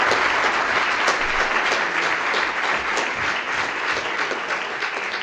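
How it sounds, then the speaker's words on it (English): Dense, sustained applause from a sizable summit audience for a panel, even and continuous throughout, with no voices rising above the clapping. "Can you give these lovely panelists a round of applause?"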